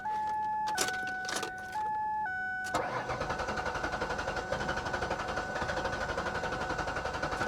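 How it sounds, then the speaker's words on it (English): A Pontiac G5 GT's ignition chimes with steady electronic tones and key clicks, then the engine cranks over in a rapid, rhythmic churning that continues without catching, heard close from inside the car. "Let's cycle the fuel pump a couple times."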